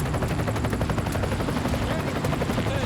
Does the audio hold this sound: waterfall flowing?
no